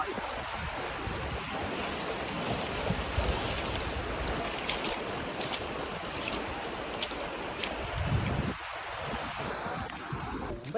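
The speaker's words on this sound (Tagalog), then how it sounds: "Lakas ng hangin sa ano, lakas ng alon." Strong wind and crashing waves fill the air near Kaparkan Falls in Abra, a dense, continuous roaring wash that stays loud and steady throughout, with faint voices.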